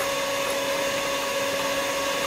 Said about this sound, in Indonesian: kita mixer dia